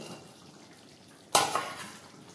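A metal lid lifts off a cooking pot of pointed gourd and curd curry in a home kitchen, one sudden clanking scrape followed by a short rattle, otherwise quiet.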